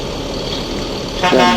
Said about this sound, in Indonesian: Dan bus ANS akhirnya melanjutkan perjalanannya menuju kota Jakarta dan sekitarnya.